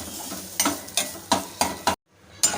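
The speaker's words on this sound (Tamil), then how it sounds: "அடுப்பை வந்து லோ ஃப்ளேம்லேயே வச்சுட்டு இந்த தேங்காயை வந்து நம்ம நல்லா வறுத்துக்கலாம்" Grated coconut is dry-roasted and stirred in a pan over a low flame. Crisp scraping strokes of the spoon come every half second or so over a faint hiss, with a brief silent gap near the end.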